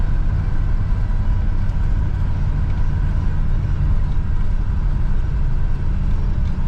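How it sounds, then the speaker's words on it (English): A combine harvester's engine idles during the corn harvest, giving a steady, loud, low diesel rumble that holds unchanged throughout, with no voices over it. "Still got the engine running."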